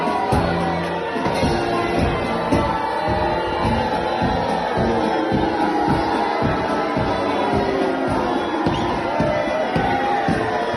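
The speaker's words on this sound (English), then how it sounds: "He's roundly booed." Crowd at Lewes Bonfire Night booing a person dressed as the Pope, a dense, continuous roar of many voices jeering together with steady rhythmic thumps underneath, loud and sustained throughout.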